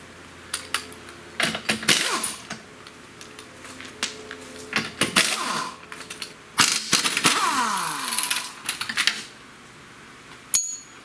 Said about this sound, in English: first thing I'm going to do, just to make it easier to get in here, is take the tire off.